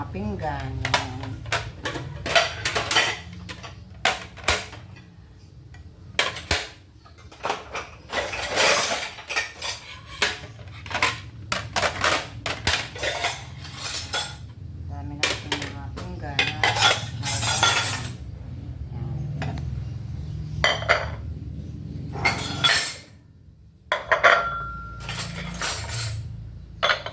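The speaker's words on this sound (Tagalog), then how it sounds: "Lagay na natin sa atin yung ating mga hinugasan mga pinggan." Washed plates and dishes being stacked and put away in a home kitchen, with repeated close ceramic clinks and clatters in irregular bursts, interspersed with quieter pauses.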